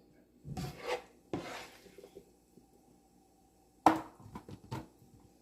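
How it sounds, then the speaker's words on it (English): Potatoes tumble into a pan for a sausage, egg and potato breakfast casserole, giving a few close rustling, scraping knocks and one sharp clatter against the pan's edge, spaced apart with quiet gaps between. "you add your potatoes into your pan"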